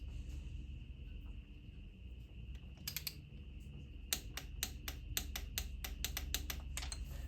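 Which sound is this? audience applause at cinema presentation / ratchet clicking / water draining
ratchet clicking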